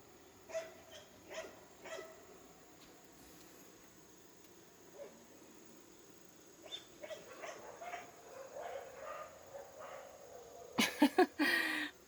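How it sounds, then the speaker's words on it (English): Dogs bark around an Avion camper, with sporadic single barks and yips early on, then a louder burst of close, rapid barking at the end. "All my wolves want to bark."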